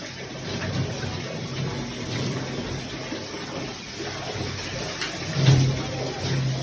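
Running water splashes steadily while a nine-month-old dog is bathed with aloe vera shampoo, a continuous close wash with slight swells and no voices.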